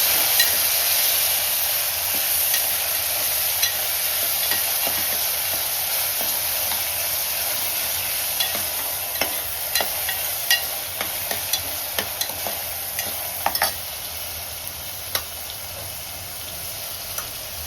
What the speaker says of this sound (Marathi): आता आपण टोमॅटो टाकूया